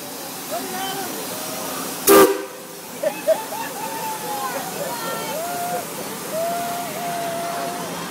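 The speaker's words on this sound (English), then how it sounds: "Look at the steam engine, buddy" A steam engine at a threshermen's show gives a short, loud hiss of released steam, followed by faint whistle-like tones and voices talking over a steady background murmur.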